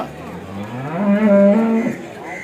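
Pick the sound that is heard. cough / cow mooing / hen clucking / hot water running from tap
cow mooing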